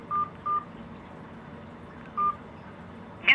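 Short, crisp phone keypad beeps enter a voicemail password, two quick presses, a pause, another press and a final clipped tone, alone against a quiet hiss.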